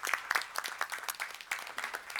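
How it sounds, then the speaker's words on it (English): A small audience at a school board meeting gives a round of applause, with sparse, distinct claps in an uneven rhythm that sound fairly quiet and somewhat distant. "If we can give John a nice round of applause"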